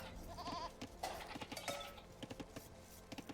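Sheep in a video game bleat faintly in brief wavering calls, layered over soft patter and low game ambience.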